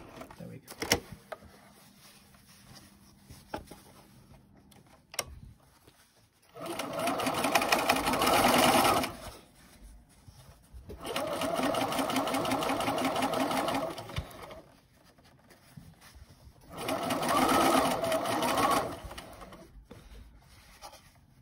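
A sewing machine stitches a fabric face mask in three loud, rapid bursts of mechanical whirring and clatter, separated by quieter pauses filled with faint handling noises.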